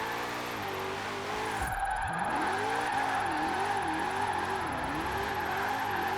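A 2020 Shelby GT500 in Forza Horizon 4 revs hard, its engine note dipping sharply then climbing and wavering through repeated rises and falls, loud and close with faint tire squeal, no talking.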